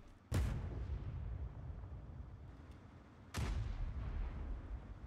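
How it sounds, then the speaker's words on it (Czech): Two loud, booming tank cannon shots from the video game World of Tanks Blitz, a few seconds apart, each with a long rumbling tail, heard alone without speech. "VG to uznalo a testuje nový zvuky výstřelů."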